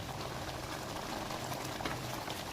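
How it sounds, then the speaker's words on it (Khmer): Boiling water is poured into a pot of beef tendon stew, giving a steady low bubbling and splashing wash that stays fairly faint and unbroken throughout. "ឥឡូវយើងចាប់ផ្ដើមចាក់ទឹកស្អាតចូលបងប្អូនបាទទឹកនេះគឺទឹកដាំពុះ"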